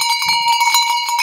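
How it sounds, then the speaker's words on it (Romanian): Old metal sheep bells from a large Romanian flock clang and jingle together in quick, overlapping strokes, close and bright, with no voices. "Deci sunt niște clopote mai vechi."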